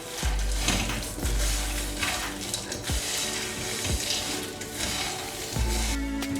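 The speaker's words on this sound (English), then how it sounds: "with peanuts we need to add sesame seeds, and we need to cook them until they get light brown" Peanuts and sesame seeds roasting in a pan, a continuous close sizzle and rustle with periodic low scraping thumps as they are moved around.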